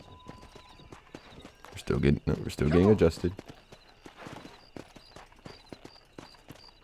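Horse hooves clip-clop in a Red Dead Redemption Remastered ranch race on the horse Bonnie, a steady galloping patter under someone talking, with a brief whinny-like burst near the middle.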